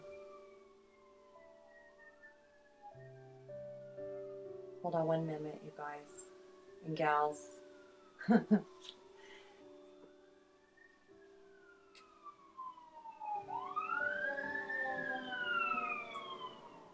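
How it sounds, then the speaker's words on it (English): A fire truck siren wails outside as it passes, rising and falling in long sweeps from far to nearer and back, while someone talks indoors over it with a brief interruption. "It's a fire truck."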